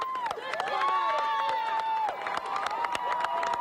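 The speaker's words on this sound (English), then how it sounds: "I'm letting you listen to the crowd here." A crowd of onlookers watches a trench rescue outdoors, with cheering, shouting voices and scattered clapping forming a lively, continuous din at moderate distance.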